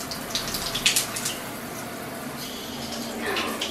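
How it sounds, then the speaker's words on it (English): Shower water sprays and splashes steadily during a Great Dane puppy's bath, close and continuous, with a few brief splashy bursts early on. "Getting in the shower."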